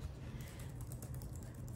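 Fingers type on a Dell Premier KM7321W wireless metal keyboard, producing a quiet, rapid stream of soft key clicks over a low steady background hum.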